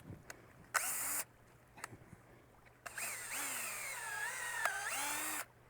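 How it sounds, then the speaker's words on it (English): A power drill whines in short bursts, then one longer run with the motor pitch wavering under load, drilling a tap hole into a maple tree on a maple farm, close up in a quiet outdoor setting. "As we drill that hole, it's going to be at an angle so that the sap can flow down."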